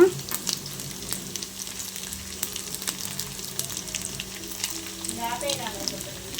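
Dried fish crackle and fry in a pan during the making of a ridge gourd curry. The sizzle is steady and close, with occasional clinks and scrapes, and no one speaks.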